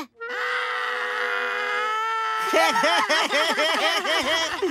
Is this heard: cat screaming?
yes